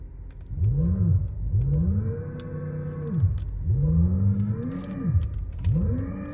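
A Mahindra XEV 9e electric car plays its synthetic engine sound in normal mode, a droning tone that swoops up and down in repeated rising and falling sweeps like revving, heard close and alone without talk.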